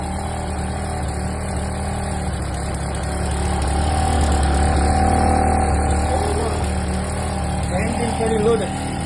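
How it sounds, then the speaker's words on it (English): A generator set's engine runs steadily under heavy electrical load, a constant low droning hum that swells slightly in the middle before easing near the end, with a person talking faintly over it. "Engine very loaded, and I turn off."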